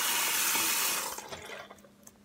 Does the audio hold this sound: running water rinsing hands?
yes